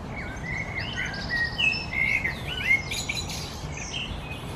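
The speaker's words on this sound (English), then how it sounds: "Love the bird note song here, it's really nice." Birds sing and chirp at Chester Zoo, a few bright whistled phrases and tweets rising over a steady outdoor hiss, fairly distant and unaccompanied by speech.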